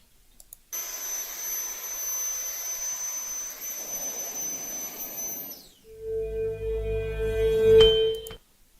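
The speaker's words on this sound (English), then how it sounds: "Looks like they're using jet engines, not propellers." Small jet engines on an aircraft roar steadily at moderate level, then the pitch sweeps and a louder, deeper rumble with a sharp whine takes over before cutting off.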